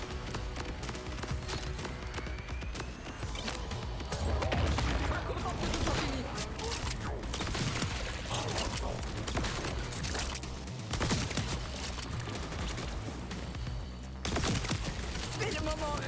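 A machine gun fires in the video game Borderlands 4, delivering dense, rapid bursts of gunfire layered with explosions and game effects, almost continuous and loud, while a voice talks over the action.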